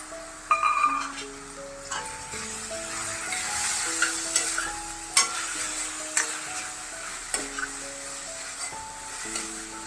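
Tomatoes fry in a pan for a sprouted moong curry, giving a soft continuous sizzle with stirring clicks and scrapes, with a faint musical tone running underneath.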